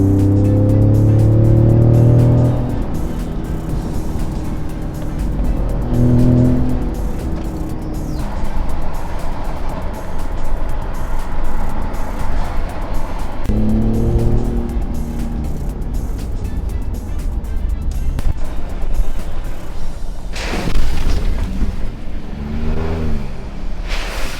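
A supercar drives on the road, its engine revving up and down through gear changes, loud and close, with several passes of rising and falling pitch and road and wind rumble underneath.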